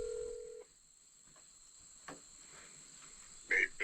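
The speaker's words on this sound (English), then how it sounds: "I'm phoning a friend on how to install this" Telephone placing a call, with a steady tone cut off early, then quiet line hiss and a couple of short dialing beeps near the end, close and fairly faint.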